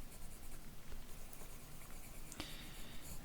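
A pencil draws on ruled notebook paper with continuous soft scratching and faint patter, very quiet and close, with no talking.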